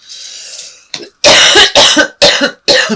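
A person with a cold gives a run of four or five loud, close coughs in quick succession, each a harsh broadband burst, preceded by a softer throat-clearing rasp.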